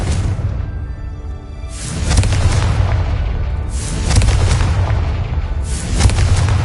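Confringo blasting-curse explosions from a Harry Potter video game: a series of deep, loud booms, each swelling into a long rumbling roar, repeat about every two seconds with no pause between them.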